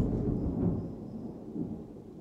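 Thunder rolls during a storm as a deep, low rumble that swells and slowly fades. It sounds moderately distant and plays alone, with no speech.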